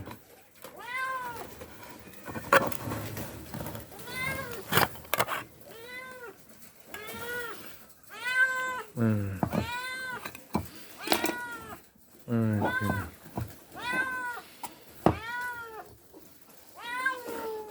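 A cat meows repeatedly and insistently, close by, with a few brief rustling handling noises between the calls.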